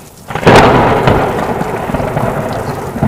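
Heavy rain in an animated story pours steadily while a loud rumble of thunder breaks in and rolls on beneath the downpour.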